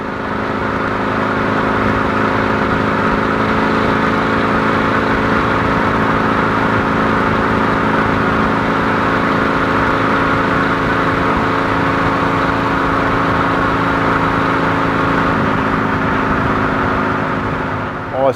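A Holden Premier's engine drones steadily under load, a constant mid-pitched rumble with firm harmonics that holds for most of the run before easing slightly near the end, with no voices over it.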